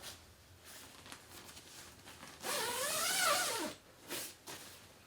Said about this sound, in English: Zipper for the opening is just straight down.